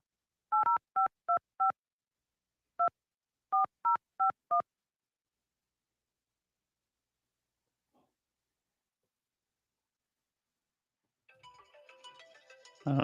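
A phone keypad beeps through a series of crisp DTMF dialing tones in quick bursts, a pause, then another run of tones, followed by silence and a faint burst of noise at the end.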